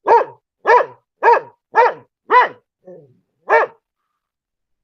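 A puppy barks about seven times in a steady, close, loud series of sharp yaps, with a softer whimpering note between the later barks.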